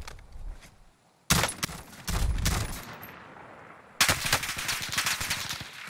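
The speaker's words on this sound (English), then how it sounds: "there's a guy shooting at you" Bursts of automatic gunfire ring out in a Warzone battle royale match, with a loud rapid volley after a brief quiet lull, then another sustained rattling burst close by.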